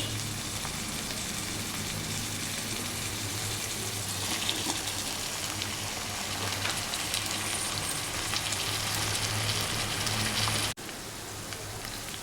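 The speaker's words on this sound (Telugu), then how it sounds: "ఒక రెండు నిమిషాల పాటు ఈ ఆయిల్లోనే ఇలా ఫ్రై చేసుకున్నాక" Potato pieces fry in hot oil for aloo palak sabzi, giving off a steady, dense sizzle that sounds like rain on a surface. A low hum runs underneath, and the sizzle drops slightly near the end.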